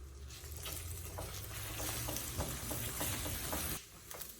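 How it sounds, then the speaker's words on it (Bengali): Egg being scrambled in a hot oiled pan, for an egg-and-eggplant fry, gives a steady close sizzle broken by repeated scraping stir strokes, briefly easing near the end, with no talking. "এই ডিমটাকে আগে আমি স্ক্রাম্বল করে নেব। দিয়ে দিচ্ছি ডিমটা।"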